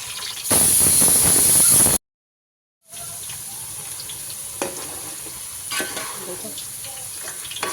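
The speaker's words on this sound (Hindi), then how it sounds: "आलू फ्राई हो रहे, हल्के ब्राउन हो जाते ना तभी निकाल लेना आप।" Potatoes frying loudly in hot oil in a pan, cooked for a home-style Hyderabadi mutton pulao, a dense steady sizzle and hiss that cuts out briefly, then continues more softly with scattered pops and a short spoken word.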